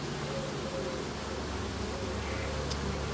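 Honey bees buzz steadily at a hive during a midsummer inspection, a dense, continuous drone from many insects at moderate distance.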